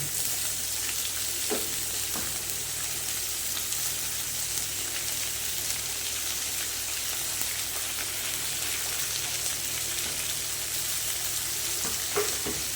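Cabbage and diced potatoes stir-fried in a pan for a cabbage curry, giving a steady, close sizzle and frying hiss throughout with a few faint spoon scrapes and no talking.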